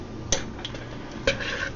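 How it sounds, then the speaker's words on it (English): Ground beef stirred in a tin can over heat gives two distinct metallic scrapes and clinks against the can, with faint quieter scraping between them and no voices. "I'm going to keep an eye on this ground beef and just kind of stir it around, kind of mush it around a little bit"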